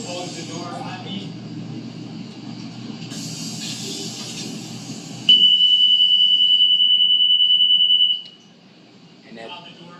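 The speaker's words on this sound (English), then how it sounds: "The door opens up again, automatic releases, and the alarm will sound where it will get the attention of the driver before the driver could go off" A school bus door closes and a safety alarm sounds as a loud, steady high-pitched tone lasting about three seconds, following muffled talk and rumbling bus noise.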